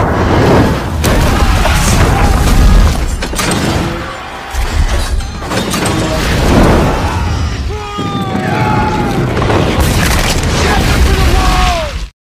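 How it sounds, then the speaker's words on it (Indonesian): Repeated deep cannon booms and blasts from a film's siege of Jerusalem rumble one after another, with crashing debris and whistling streaks between them, loud and close, cutting off abruptly. "ribuan meriam api yang diluncurkan oleh pasukan muslimin untuk menyerang benteng"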